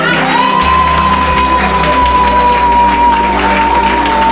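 A congregation applauds inside a church, dense loud clapping mixed with cheers and whoops that runs without pause, with a thin sustained whistling tone held over the crowd.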